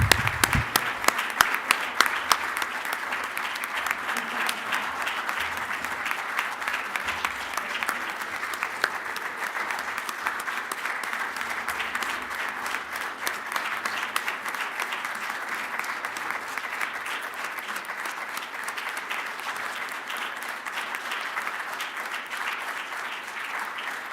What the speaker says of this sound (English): Let's give a round of applause for this 45-year recipient.